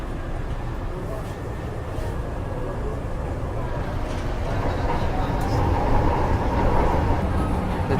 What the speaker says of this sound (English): We'll take a train going to Trinoma.